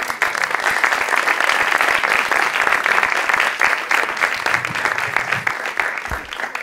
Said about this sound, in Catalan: Si voleu, podeu aplaudir